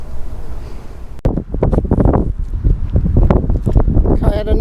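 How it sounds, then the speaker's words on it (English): Strong wind buffets the microphone outdoors during metal detecting for coins, a constant rough low roar that almost drowns a voice as he talks over it. "It's so windy."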